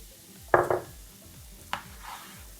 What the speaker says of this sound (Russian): И теперь вместе с чесночком обжариваем нашу муку.